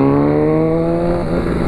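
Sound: Honda CB1000R motorcycle engine revving

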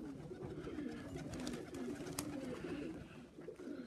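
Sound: pigeons (blues) cooing at the loft

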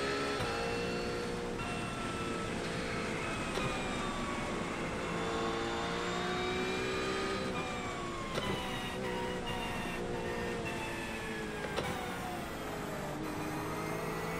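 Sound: Porsche GT3 race car engine in a racing video game

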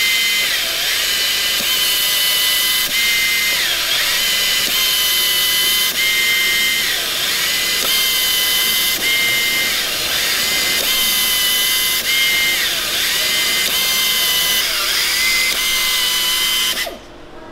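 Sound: power drill tapping threads with an oiled tap in a quick-change chuck

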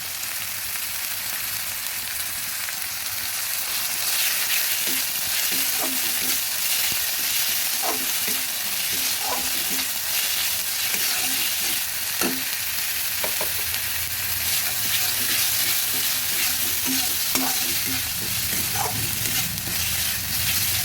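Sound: chopped onion frying in pan

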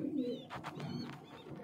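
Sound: breeder pigeons cooing in a loft

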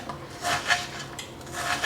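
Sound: knife slicing half an onion

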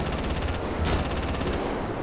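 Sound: gunfire in GTA 5 video game

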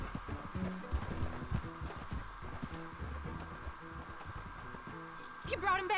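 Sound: horse hooves in video game

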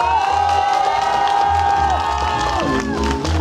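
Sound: audience cheering for Diana

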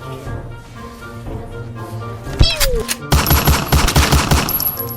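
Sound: Granger's gunshots in a video game

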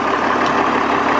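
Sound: Case 1896 tractor engine starting up

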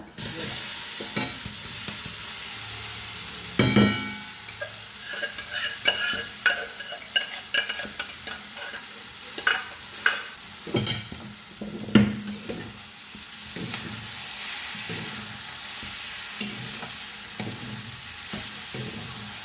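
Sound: stirring sweet potato masala frying in a pan

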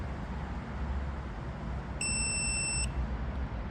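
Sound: digital torque wrench beep

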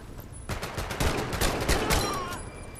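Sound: gunfire from video game Medal of Honor: Above and Beyond

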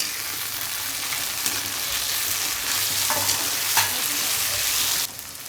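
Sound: tomatoes frying with onion and green chilli in a pan

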